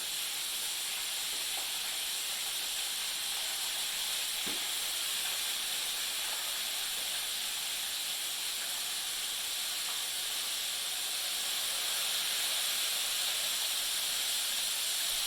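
Roughly two pounds of calamari frying in very hot oil, a steady, loud broadband hiss and sizzle filling the whole stretch without pause, with no talking.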